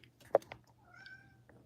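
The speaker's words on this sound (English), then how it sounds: "this cat is like harassing me right now" A fussy house cat lets out a short, close meow followed by a softer drawn-out mew in a quiet room, with faint background hum.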